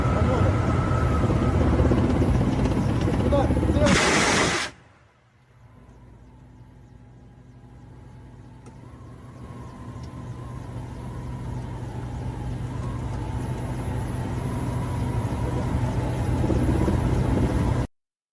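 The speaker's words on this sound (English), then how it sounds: "a recent fire mission by a Ukrainian helicopter pilot" An attack helicopter's rotor and engine drone heavily during a fire mission, cut by a sharp burst of noise, then the rumble builds back up steadily.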